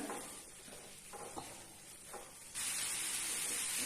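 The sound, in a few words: mustard greens being sautéed in a pan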